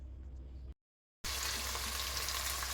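Onions fry in oil for vegetable pulao, making a dense, even sizzle close by. The sizzle cuts out to silence for about half a second, then returns louder.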